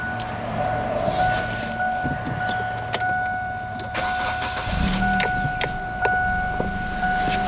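A Kia car with a crank-no-start, rough-running fault is cranked and started. Clicks and a mechanical whir lead into the engine catching, then a steady idle hum with scattered sharp ticks, heard up close.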